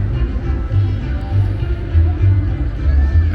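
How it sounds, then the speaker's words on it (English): Music from the National Wine Festival drifts across Stephen the Great Park in Chișinău, a steady bass-heavy beat with a continuous band heard from a distance behind outdoor ambience. "as you can hear the music in the background from the National Wine Festival"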